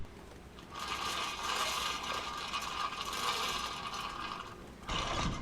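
A sailboat halyard runs through a pulley held by stainless steel U-straps at the spreaders, hoisting a stack bag with a steady whirring, scraping ratchet sound that pauses briefly near the end, then resumes, close and fairly quiet.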